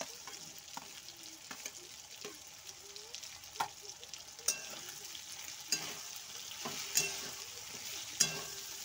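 Vegetables and paneer frying and being stirred in a pan for veg biryani: a steady close sizzle with repeated scraping, clattering strokes of the spoon, no voices.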